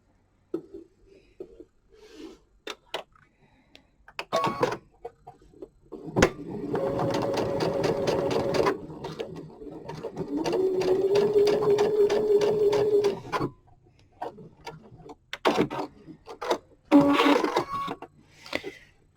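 A sewing machine stitches fabric seams in two long, rapid runs of whirring needle strokes, with short starts, stops and handling knocks around them.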